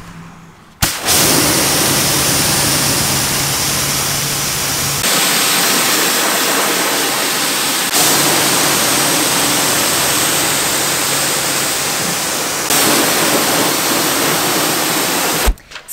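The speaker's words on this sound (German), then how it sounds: "Und jetzt spülen wir es runter." A water hose sprays steadily onto a BMW E36 coupé wheel rim to rinse off homemade rim cleaner, a loud continuous hiss broken into several long bursts with brief pauses between them.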